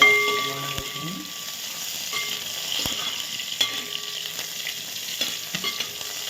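Onions and green chillies frying lightly in a pan, a continuous close sizzle broken by scraping and occasional clinks of a spoon stirring against the metal.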